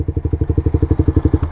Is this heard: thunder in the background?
no